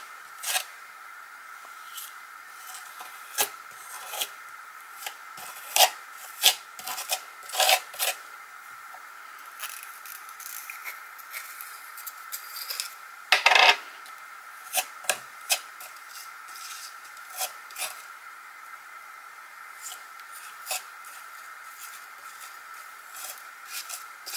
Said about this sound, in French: Je vais prendre une palette, la pâte de texture et je vais recouvrir mon cœur avec ce joli pochoir